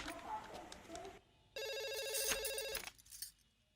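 An electronic telephone ring bursts out with a steady trilling tone for about a second and a half, nearby and fairly loud, following a quieter stretch of room sound.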